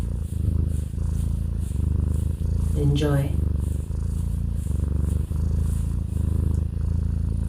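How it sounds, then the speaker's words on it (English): A cat purrs in a steady low rumble close by, running under a voice throughout. "She's gonna give you a little bit of a purr session."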